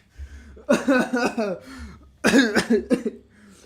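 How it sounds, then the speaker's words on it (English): A few harsh coughs and throat-clearing bursts come in two quick clusters, close and fairly loud. "I'm coughing from cringe, man."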